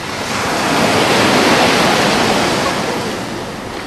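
Wind and ocean waves at sea, heard as a steady broad roar of surf and rushing air that swells slightly in the middle and stays loud and continuous throughout.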